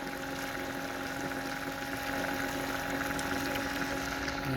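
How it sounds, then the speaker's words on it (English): An RV black tank macerator pump runs while pumping plain water supplied by a garden hose, a steady droning hum with tonal whine and watery churn, continuous and close. "You can hear the pump."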